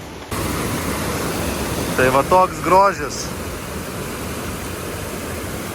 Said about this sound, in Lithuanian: Pats gražiausias krioklys mano gyvenime.